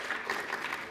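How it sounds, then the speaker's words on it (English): Short burst of applause from a university audience at a public address, dense clapping filling the moment without speech. "Pigia Wakofi, clap for them."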